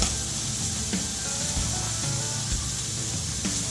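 Steak sizzling in a hot pan for a sandwich, a steady loud hiss with faint crackles and occasional soft knocks, no voices.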